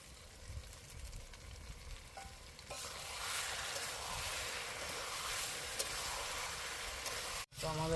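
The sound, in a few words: potato, pointed gourd and spices frying in oil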